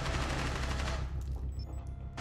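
Rapid automatic gunfire in a video game, a loud, dense burst of shots at close range that fades out after about a second, leaving faint tones.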